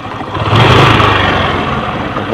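Kawasaki LS 135 motorcycle engine revving up toward 3000 RPM during carburetor air-fuel mixture tuning, a loud steady mid-pitched drone that swells after a brief lower idle and holds high, close by.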